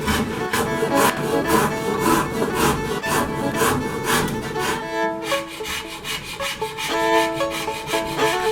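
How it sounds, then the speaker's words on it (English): A hand rasp files down a wooden gun stock blank in steady back-and-forth strokes, a rough rhythmic scraping that is loud and close with no talk over it. "now we're going to come in with our rasp"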